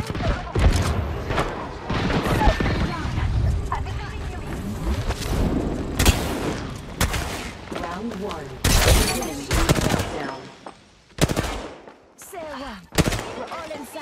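Shotgun gunfire in the Xbox Series X shooter Apex Legends, sharp blasts and bursts with shattering impacts scattered through a hectic fight, with someone talking over it.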